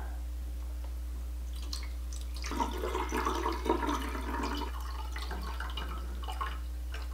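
Distilled water is poured into the reservoir of a portable hydrogen inhaler, a close, soft trickling and splashing that swells after a quiet start and then tapers, over a low steady hum.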